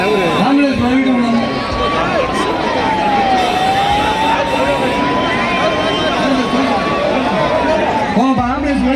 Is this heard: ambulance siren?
yes